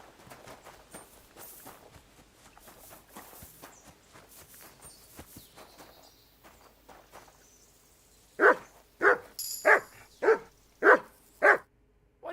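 A dog in the medieval video game Kingdom Come: Deliverance 2 barks six times in a loud, evenly spaced run near the end, after a stretch of quiet footsteps and faint background movement.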